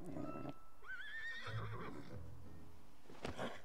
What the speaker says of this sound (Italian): Ah, un cavallo.